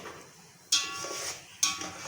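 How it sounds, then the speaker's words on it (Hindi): A metal spoon scrapes and knocks against a cooking pot while mixing rice for sweet zarda, two distinct clanking strokes each followed by a brief scraping stir, close and alone. "अब हल्के से चम्मच से हम इसको मिक्स करेंगे।"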